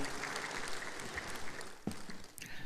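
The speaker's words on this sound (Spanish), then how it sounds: "lo recibimos con un fuerte aplauso" Audience applause welcoming a guest speaker to a church leadership lecture, a faint, steady wash of clapping heard from a distance for a few seconds, with no talking over it.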